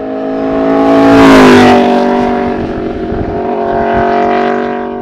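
An Aprilia RSV4 RF sportbike with an aftermarket exhaust revs loud and close, its engine note swelling and rising early, then holding a strong, steady drone before easing off.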